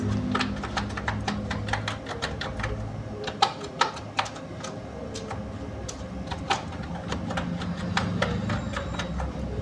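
Typing on a computer keyboard while filling in an online exam application form: a steady run of light, irregular clicks and taps, close and fairly clear, over a low background hum with no talk.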